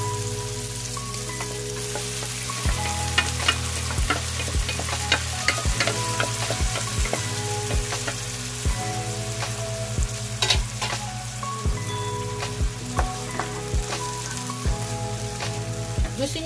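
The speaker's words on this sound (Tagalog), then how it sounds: "Ilagay na natin yung ating munggo." Mung beans tumble into a pan and sauté with a steady close sizzle for ginisang monggo, with repeated scraping stirs and clinks throughout and no voices.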